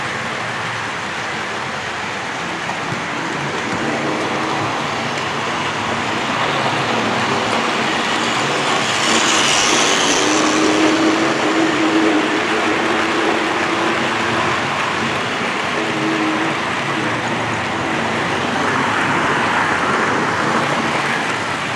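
A Hornby model gas turbine locomotive hauls a freight train on a layout, a steady continuous rolling rumble with a faint motor whine, fairly loud and unbroken throughout, without speech.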